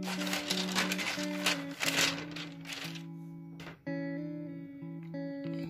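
Paper crinkles and rustles as a hand-drawn embroidery design sheet for a kurti is handled in a studio. The crackly handling comes mostly in the first half, over steady tonal music.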